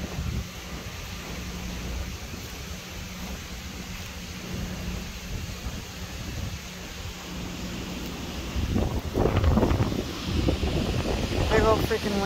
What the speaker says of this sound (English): Big old freaking wind still.